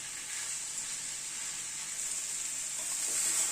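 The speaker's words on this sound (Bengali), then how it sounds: "মশলাটা দিয়ে এই একটুখানি মিনিট খানেক নাড়াচাড়া করে নিলাম" Spice paste frying in a pan as a steady, bright sizzle with a slight hiss that swells toward the end, with no separate stirring strokes standing out.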